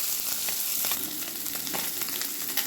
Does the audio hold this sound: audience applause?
no